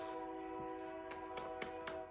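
A train passes nearby, its horn sounding in several steady tonal blasts with a low rumble of rail noise underneath, with no voices.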